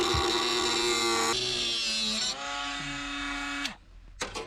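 Power tool cutting sheet metal on the body of a rusty 1983 VW LT 35 van, a loud whining buzz that shifts pitch in stages, then winds down and stops, followed by a few sharp knocks.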